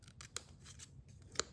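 Small Stampin' Up! snips fussy cutting paper, several quiet close snips in quick succession with a couple of sharper clicks.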